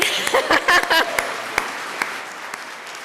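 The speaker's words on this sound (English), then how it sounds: "It's a good reason to clap." An audience applauds at the welcome of an annual coalition celebration at The Currier. The clapping is brief and dense, with a few louder claps standing out early, and it fades into a steady background wash.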